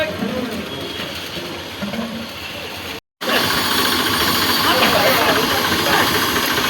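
A tractor engine runs steadily at a borewell drilling site, a loud continuous rumbling drone with hiss, briefly cutting out for a moment before resuming even louder.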